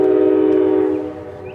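A loud train horn blares nearby with a steady chord, then fades a little as the blast trails off.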